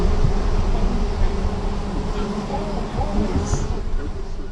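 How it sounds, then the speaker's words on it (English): Dense, continuous buzzing of a large honeybee swarm, loud and close, droning without pause throughout. "in fact almost terrifying noise you hear from the bees in a swarm"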